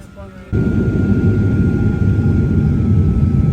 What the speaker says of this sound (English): As we watch this beautiful takeoff from Cancun Airport